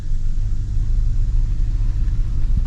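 A Toyota Tundra truck drives along at about 30 mph, giving a loud, close, steady low rumble of engine and road noise inside the cab with little variation.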